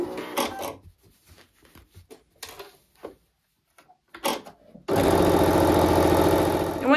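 A sewing machine stitching a charm square quilt, starting after some scattered handling clicks and bumps and then running in one steady, loud, close burst.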